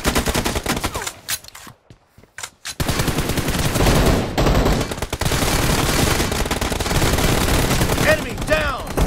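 Dense automatic gunfire in the mobile shooter PUBG Mobile during a team deathmatch, loud rapid bursts of rifle fire with a brief lull early on, then sustained near-continuous shooting with clinks and game effects over it.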